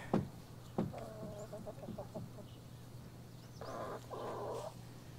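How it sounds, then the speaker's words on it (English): Farm chickens cluck in short bursts outdoors on a sunny morning, a few sharp calls followed by a run of rhythmic clucks and two longer louder squawks near the end over a low steady hum. "These chickens are some of the hardest working members of our farm."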